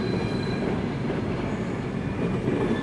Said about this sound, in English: when these trains is going.